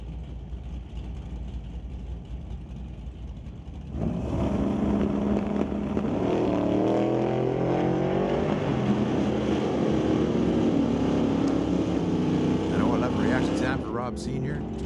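A 1931 Model A drag race car roars in about four seconds in, a loud, sustained engine run that holds strong for several seconds, under a track announcer's continuous commentary.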